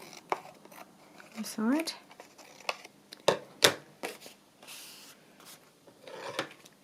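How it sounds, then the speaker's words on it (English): Scrapbook paper being trimmed with scattered scraping, rubbing and snipping sounds, close and fairly quiet, interspersed with short bits of talk. "I'll just trim off those bits"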